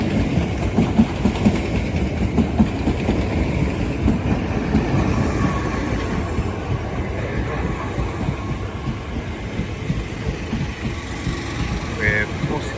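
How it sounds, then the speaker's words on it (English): A Southeastern Class 465 multiple-unit train pulls into Orpington station on the South Eastern Main Line, wheels clattering over rail joints with a low, steady rumble and occasional squeal, loud and close throughout. "Incoming now will be the 10:14 South Eastern service from London Charing Cross to Sevenoaks"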